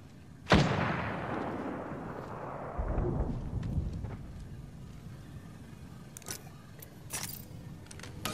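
A single loud gunshot in an online battle royale match cracks out and rolls into a long booming decay, followed by scattered fainter shots and clicks in the distance.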